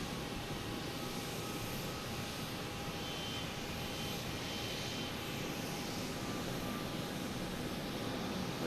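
A Cape Air airplane runs at Boston Logan Airport, a steady, loud engine drone and roar that holds evenly at close range without a break.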